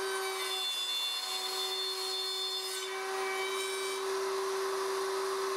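Router fitted with a guide bushing cutting box joint openings in wood with a Leigh RTJ400 template, a steady high-pitched whine that stays constant and loud for about five seconds.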